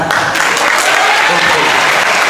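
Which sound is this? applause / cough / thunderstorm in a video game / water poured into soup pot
applause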